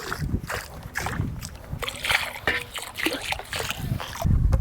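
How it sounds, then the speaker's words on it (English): Dissolved pool shock poured slowly around the edge of an above ground pool, a steady run of splashing and trickling water close by, with some rustling and handling noise mixed in. "I'm gonna just dump it in around the edge of my pool"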